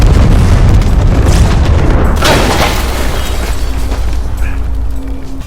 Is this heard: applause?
no